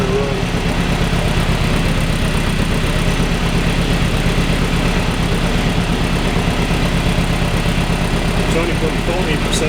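A Mini fitted with an Arden 8-port head idles roughly with a steady low, pulsing engine drone, loud and close throughout, running weak and reluctant as the throttle eases off, with faint speech-like noise mixed in.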